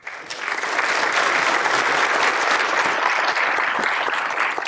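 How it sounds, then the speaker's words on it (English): Sustained round of applause from a seated crowd at a sheriff's office swearing-in ceremony, rising quickly and holding steady and loud for several seconds. "please stand so we can give you a big round of applause for all you do"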